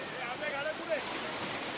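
Floodwater from heavy rain rushes through city streets in Nashik, a steady, dense, continuous roar with no break, heard alone.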